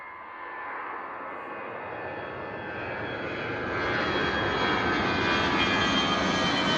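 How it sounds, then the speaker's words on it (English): An EasyJet Airbus A320 jet departs Bristol Airport for Newcastle, its engine roar loud, steady and broadband, slowly building in strength over about seven seconds with no talk. "A320 heading out to Newcastle, EasyJet."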